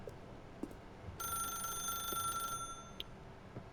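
A telephone rings in The Stanley Parable, one steady electronic ringing tone lasting just over a second above a low ambient background, with a few faint clicks around it.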